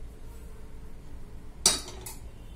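Roasted green chilies, tomato, ginger, tamarind and garlic tipped into a mixer jar for peanut chutney, giving one sharp clink followed by a fainter second clink over a quiet room background.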